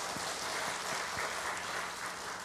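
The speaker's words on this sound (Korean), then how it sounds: "박수 한번 하겠습니다." A church congregation applauds together at a thanksgiving Sunday service, a steady broadband wash of many hands at moderate level for the full stretch, with a few low thumps underneath.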